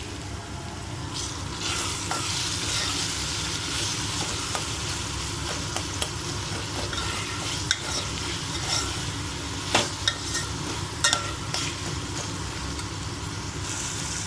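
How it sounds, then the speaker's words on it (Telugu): Semolina being stirred into simmering tomato water in a pot, a steady bubbling sizzle with intermittent scraping clicks from the spoon against the pan, close and continuous. "ఇప్పుడు ఇది రవ్వ వేసుకొని కలిపేసుకుందాము."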